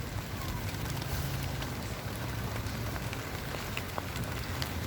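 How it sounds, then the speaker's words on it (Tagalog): Rain pours steadily onto potted plants such as crotons, a dense, even hiss of drops close by with faint scattered taps and a bird call in the background. "Nagugustuhan ng mga halaman ko yung ulan."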